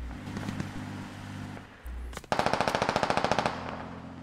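Heavy DShK machine gun fire in the game Squad: a loud, rapid burst of about fifteen evenly spaced shots after a stretch of rumbling vehicle noise, with no talk.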